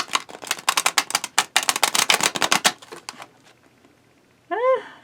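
A stiff deck of tarot cards is riffled and shuffled in rapid bursts of crisp flapping clicks, then a pause and a brief voiced sound near the end.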